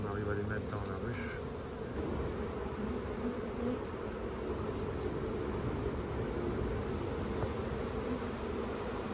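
A swarm of honeybees buzzes densely around a hive, a steady, close, continuous drone that fills the whole scene without pause.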